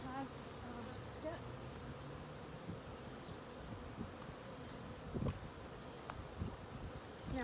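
Honeybees buzzing around an opened beehive, a dense, steady hum of many insects close by, with occasional rustling and handling noises.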